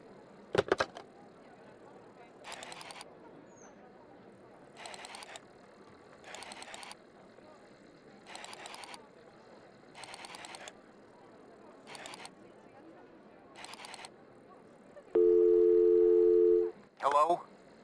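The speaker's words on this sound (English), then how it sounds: "Come on, dial it now." A telephone is dialed in the Kujlevka game: a steady series of short, evenly spaced dialing beeps repeats about once a second, followed by a longer sustained tone and a final short blip, all against a quiet background.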